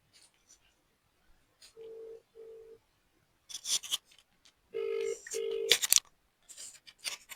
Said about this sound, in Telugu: వాడికి ఫోన్ చేస్తా